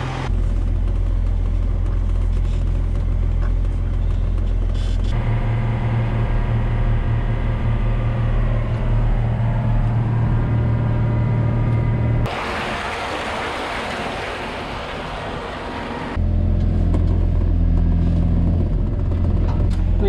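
A farm truck drives a few miles to a fertilizer store, a steady loud engine drone and low road rumble with gear-like shifts in pitch and a brief quieter, hissy stretch partway through.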